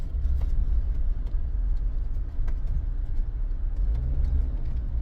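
Jeep Wrangler rental in two-wheel drive mode driving fast and sliding on soft beach sand, a steady loud low engine rumble with road-like tire noise throughout, no talking.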